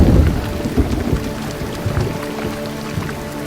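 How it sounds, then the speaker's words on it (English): Steady heavy rain in the animated film Alpha and Omega hisses and patters as a dense, loud, continuous wash, with low rumbling thuds mixed in. "Let's get out of the rain."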